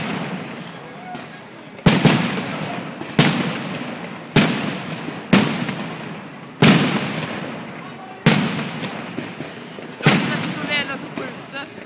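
Fireworks at the Liseberg amusement park in Gothenburg burst in a series of about eight sharp, loud booms spaced a second or two apart, each trailing off into crackle, with people talking between the bangs.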